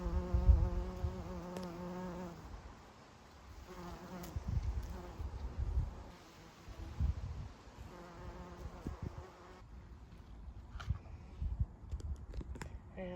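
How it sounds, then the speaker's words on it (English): Bees hum continuously in a bush outdoors, a close, steady drone that rises and falls and carries on for the whole stretch, with a faint tonal background early on and no talking. "This bush beside me here is alive with bees"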